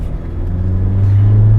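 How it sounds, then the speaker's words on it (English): Tata Hexa diesel engine pulling at half throttle from inside the car, a loud low drone that swells steadily as revs climb, with no talking. "So now I'm going to give it half accelerator, right?"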